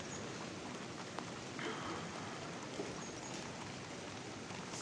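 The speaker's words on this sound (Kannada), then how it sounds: "ಮಳೆ ಬರ್ತುಂಟು." Rain falls steadily outdoors as a soft, even patter and hiss, faint and continuous without breaks, with no talking heard.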